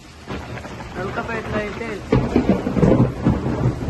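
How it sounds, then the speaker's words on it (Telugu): Thunder rumbles through steady rain in Nulakapeta, with deep booming rolls building louder in the second half, while someone speaks briefly over the storm. "అక్కడేమో ఉరుములు మెరుపులు కురుస్తున్నాయి, ఇక్కడేమో వర్షం."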